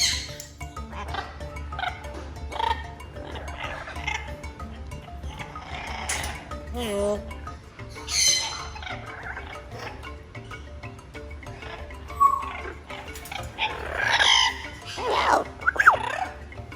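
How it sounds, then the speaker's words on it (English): Noisy large parrots such as macaws, Amazons, cockatoos and African greys squawk, screech and whistle in a busy indoor animal facility, overlapping calls of varied pitch over a constant low hum, with louder shrieks toward the end. "the birds are the absolute hardest. And the noisiest, as you guys can hear."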